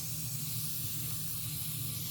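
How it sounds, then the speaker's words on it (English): Commercial oven cleaner sprays steadily from an aerosol can onto oven racks outdoors, a continuous close, loud hiss with no break and no voices. "Spray the sides here."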